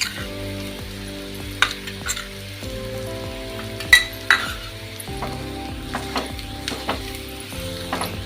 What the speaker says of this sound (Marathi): ते बेसन पीठ कांद्यामध्ये व्यवस्थित भाजेल इथपर्यंत चांगलं व्यवस्थित परतायचे